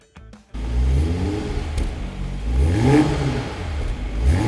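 Toyota GR Supra 3.0 with a genuine dual exhaust revs up close after a brief pause, the engine note rising and falling through a few throttle blips and holding a strong, steady growl.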